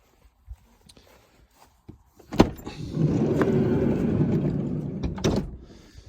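A van's sliding side door is unlatched with a sharp click, then rolls open in a long rumbling slide that ends in a thud, preceded by a few faint footsteps and handling noises nearby.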